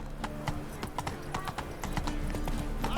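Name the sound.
horse hooves galloping in video game The Witcher 3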